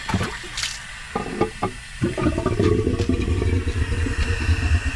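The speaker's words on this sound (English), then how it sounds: "Just get all the water out of this part of the canister, lowering it to below here" Water draining out of a pool filter canister that holds four filter cartridges, a continuous rushing, gurgling flow with a low rumbling undertone, close and fairly loud, growing fuller after the first couple of seconds.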